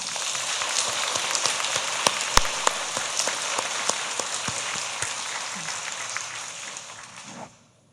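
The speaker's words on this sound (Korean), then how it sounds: "우리 하나님 앞에 박수 한번 하자" A church congregation claps together in steady, dense applause for several seconds, fairly close and even, then stops abruptly.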